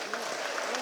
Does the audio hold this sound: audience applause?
yes